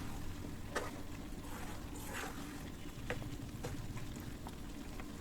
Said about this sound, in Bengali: এবার ভালো করে নেড়ে চেড়ে কষিয়ে নেব।